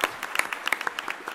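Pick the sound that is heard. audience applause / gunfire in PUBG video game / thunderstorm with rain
audience applause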